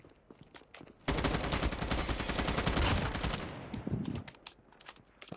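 Sustained rapid automatic gunfire from the mobile shooter Call of Duty Mobile bursts in after a quiet second and rattles loudly for about three seconds, then tapers into scattered shots and clicks.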